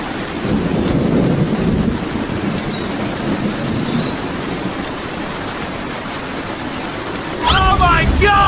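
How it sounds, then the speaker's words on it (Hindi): A thunderstorm sound effect with steady rain and a deep rumble of thunder swelling early on, followed by a sharp burst of noise near the end. "चलो किधर से बारिश हो गया।"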